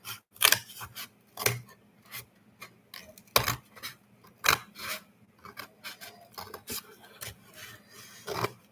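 Scissors cut through material for a small crafted barrel in a series of crisp, close snips, irregularly spaced with quiet pauses between.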